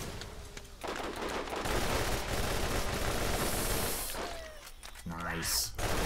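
Automatic gunfire from the Borderlands video game rattles in a long, dense burst, pauses briefly, then resumes with a sharp final shot; a voice is heard faintly in the background.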